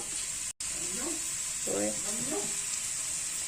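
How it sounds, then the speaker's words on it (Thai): Shiitake mushrooms stir-fry with garlic and onion in a hot pan, giving a continuous loud sizzle and hiss with faint scraping. A voice briefly talks over it. "เห็ดหอมลงไปจ้ะผัดให้หอม"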